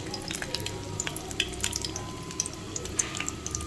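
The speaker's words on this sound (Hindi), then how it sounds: "इसके अंदर डालते जाते हैं इतना कि डीप फ्राई होती जाए" Sweet tikiyan deep frying in ghee: a steady close sizzle with scattered crackles and pops and a light stirring texture.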